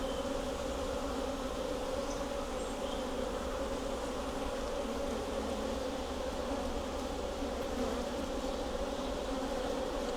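Honeybees swarm over an open hive during an inspection, making a dense, continuous buzzing drone that stays level and close throughout, with no other sounds breaking through.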